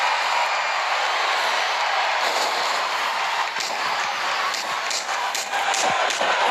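A roaring crowd in a WWE wrestling video game makes a dense, steady wash of noise throughout, with occasional sharper swells and cheers rising out of it.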